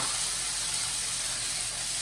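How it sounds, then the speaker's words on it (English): Steady, bright sizzling of vegetables frying in an oiled pan, a continuous close hiss with no pauses and no voices. "they're gonna sizzle a little bit in there"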